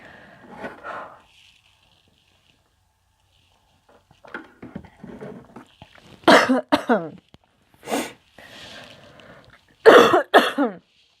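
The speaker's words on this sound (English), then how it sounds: "I'm sorry if I'm coughing into the microphone" A person coughs repeatedly into a microphone in harsh, close bursts, with short pauses between fits and some throat clearing mixed in.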